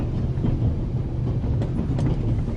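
A passenger train runs along the rails, a steady low rumble with soft rolling rhythm and faint rattles, continuous and close with no voices.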